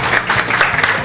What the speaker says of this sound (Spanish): Oye, chicas, aplaudir que le ha tocado el premio a la Noé.